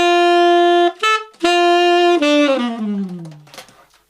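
A tenor sax plays a short, loud, close phrase from Waiting for a Star to Fall: several sustained notes with brief breaks, ending in a falling note that slides down and fades out.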